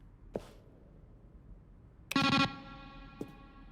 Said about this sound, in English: Oh, that echo.